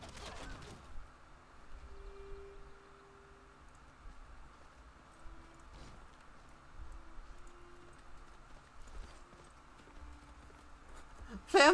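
In a zombie-mode game of Civilization VI, horses clip-clop in a quiet, steady rhythm at a distance, with faint birdsong and light rustling in the background.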